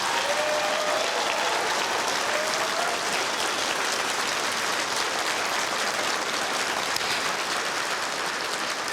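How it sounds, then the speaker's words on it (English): A large ceremony crowd at a national awards event applauds continuously, a loud dense wash of clapping that holds steady throughout without voices. "I'd really love us to give one last round of applause to each of our recipients."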